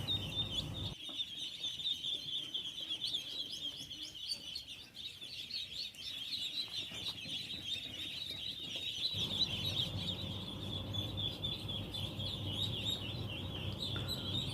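Ducks on an Indonesian duck farm, recently vaccinated, fill the air with a continuous chorus of high, busy peeping and chirping. Low farm noise shifts underneath partway through.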